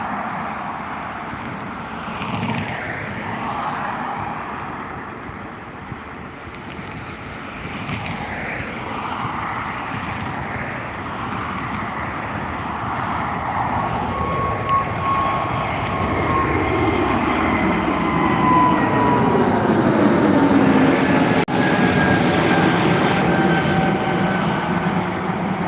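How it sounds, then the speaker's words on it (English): A brand-new Lufthansa City Airbus A320neo takes off from Dublin Airport bound for Munich, its jet engines roaring in a broad, steady wash that swells louder over the takeoff roll, with no voices. "The Lufthansa City Airbus A320neo taking off to Munich."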